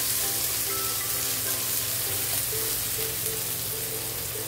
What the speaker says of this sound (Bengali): এখন দিয়ে দেবো কুচনো পেঁয়াজ, 2টো পেঁয়াজ নিয়েছি কুচিয়ে এভাবে, আর পেঁয়াজটা প্রথমে ব্রাউন করে ভেজে নিতে হবে।